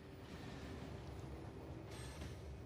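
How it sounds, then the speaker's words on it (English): A train pulls into a station in the video game Factorio, giving a steady, close rumble of rolling wheels with a brief brighter hiss near the end, heard alone without talk. "There's a train"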